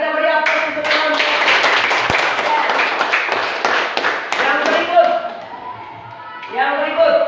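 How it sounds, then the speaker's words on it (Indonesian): Applause for a church group, steady rapid clapping from many hands filling the room, nearby and fairly loud, with a brief lull near the end before clapping swells again; voices mix in underneath. "kita beri aplaus untuk kelompok"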